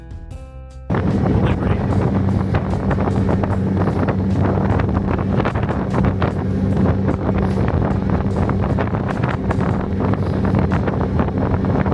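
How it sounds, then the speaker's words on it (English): Strong wind from a New York City blizzard buffets the microphone in a steady, loud roar with constant rumbling gusts for the whole stretch, heard from a street on a walk to work through heavy snow. "the wind is picking up now"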